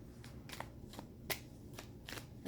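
Tarot cards are shuffled and dealt out during a reading. Soft slaps and riffling bursts come in an irregular rhythm, faint and close.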